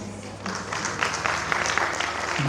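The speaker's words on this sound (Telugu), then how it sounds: "Please claps." Audience applause at a 25th-anniversary awards celebration, a steady, dense wash of clapping from a large crowd that holds evenly for a couple of seconds.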